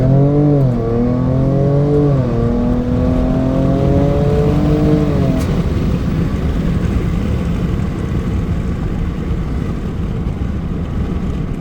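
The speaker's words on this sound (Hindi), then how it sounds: "अब इस गाड़ी का 0 to 100 टेस्ट करके देखते हैं" A 2022 Ford Ranger Raptor pickup revs hard from standstill in a 0-100 test, its pitch climbing through a gear change before settling into a loud, steady roar of acceleration.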